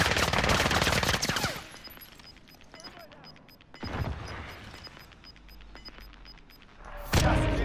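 Gunfire in the video game Warzone: dense bursts of automatic fire at the start, then scattered single shots and a louder burst near the end, with players talking over it.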